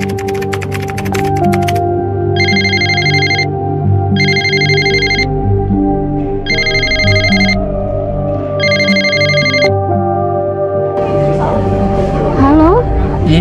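Four evenly spaced electronic ring bursts from a telephone being called play over background music, each about a second long with brief gaps, followed by keyboard-like tapping and a voice at the end.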